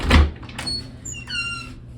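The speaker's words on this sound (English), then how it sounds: "You might be wondering if there's enough clearance for this door to open" An apartment door swings open with a thud at the start, then a creaky squeak and faint rattles as it moves, close and alone with no talking.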